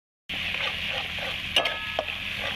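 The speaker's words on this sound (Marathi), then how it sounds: "तर आता याला तळून घेते बरं चांगलं." Eggplant frying in a pan over a wood-fired clay stove, a steady hiss starting abruptly after a moment of silence, with a couple of sharp spatula knocks.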